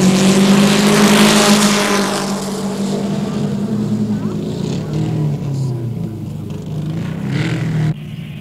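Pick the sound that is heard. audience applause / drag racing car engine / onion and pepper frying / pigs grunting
drag racing car engine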